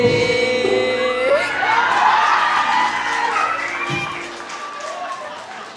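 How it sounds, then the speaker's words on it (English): Applause and cheering rise from a crowd at a graduation ceremony for Mac Donald College, beginning as music fades out and then continuing steadily at a fair volume. "Applause."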